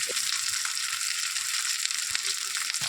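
Tilapia fish frying in oil makes a dense, continuous hiss of sizzling, with occasional low knocks from stirring. No one speaks.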